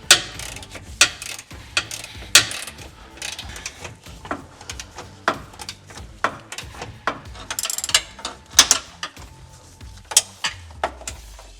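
A hand ratchet works loose the bumper bolts on a RAM 1500 pickup, giving repeated bursts of sharp metallic clicking at close range with brief pauses between strokes.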